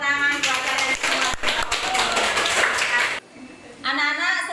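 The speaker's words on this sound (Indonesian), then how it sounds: "kasih tepuk tangan buat kalian semua" A high-school chemistry class applauds, dense clapping from a roomful of students that cuts off abruptly, then a brief burst of clapping resumes; voices mix in.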